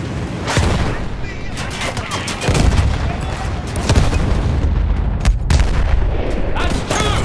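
Battlefield 1 gameplay fills the air with dense explosions and rapid gunfire, booming blasts and cracking shots overlapping continuously and loudly, with a player talking underneath.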